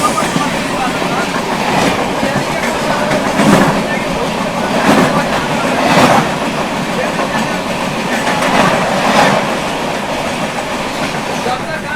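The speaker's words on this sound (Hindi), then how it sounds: "भाई महाबोधि कॉन्टीन्यूसली जो है 130 भागे जा रही है।" Mahabodhi Express racing along at about 130 km/h, a loud continuous roar of wheels with recurring clickety-clack bursts over rail joints every second or two, a voice talking faintly beneath.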